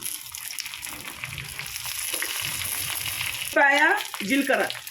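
Green chilies crackle in hot oil in a tempering of mustard seeds and dried red chilies, a steady sizzle that runs under brief speech near the end.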